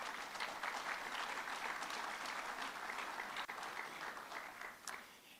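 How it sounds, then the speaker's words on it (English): Audience applause for sponsors at a business gathering, a quiet, continuous wash of many people clapping that holds steady and then gradually thins toward the end. "let's give a round of applause for all of our sponsors"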